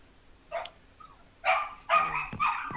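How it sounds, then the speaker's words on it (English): An unhappy dog in Minecraft, played in the Sky Factory 3 modpack, gives a short yelp, a faint whimper, then a run of close, whiny barks. "that's an unhappy dog I hear"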